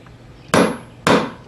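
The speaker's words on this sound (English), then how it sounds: "Then I just pound it in through the other side." Two sharp, loud hammer strikes drive a pin into an SKS rifle magazine release, spaced about half a second apart, each ringing briefly before fading, with no voices.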